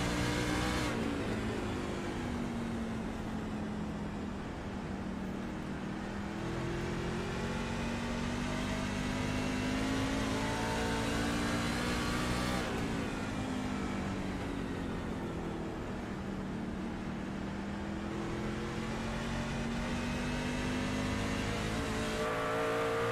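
Racing trucks in the American Elite Racing Truck Series at a Lucas Oil playoff race roar around the track in a continuous loud engine drone, with pitch rising and falling as they accelerate and lift through the turns.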